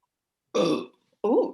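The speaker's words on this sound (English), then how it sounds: "that was a silky smooth, milky chocolate burp" Two loud, close burps from a girl in a burping contest after drinking chocolate milk: a long throaty one followed by a shorter, rising second burp after a brief pause.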